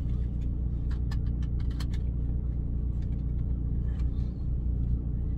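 Continuous low rumble of a truck engine while driving, steady and close, with scattered faint clicks and rattles from inside the cab.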